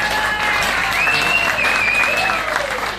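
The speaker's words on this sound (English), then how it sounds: "Give her a big round of applause, ladies and gentlemen" A crowd at a drag racing grand finals presentation gives sustained, even applause throughout, loud and close, with a faint whistle or cheer rising above the clapping.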